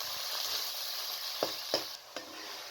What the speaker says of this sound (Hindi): कीमा डाल के आपने तकरीबन 5 से 7 मिनट तक इसे अच्छी तरीके से फ्राई करना है